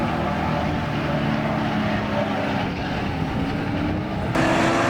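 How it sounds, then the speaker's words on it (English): A BMW and a Holden touring car race side by side into a corner, loud engine roar held close and steady throughout, rising in intensity near the end. "Heading to turn 4, the pair was in a drag race with Marks on the inside"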